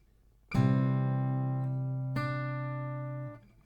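Two strummed acoustic guitar chords, C then F, the second entering about halfway through and both left ringing out before fading; no talking.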